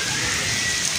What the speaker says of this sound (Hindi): तेज़ हवाओं के साथ जो है बारिश हो रही है